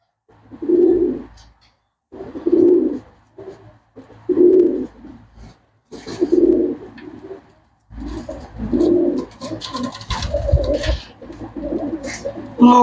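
Male pigeons coo repeatedly in a loft, deep throaty rolling coos coming roughly every two seconds, close and loud, growing denser and overlapping toward the end with some rustling.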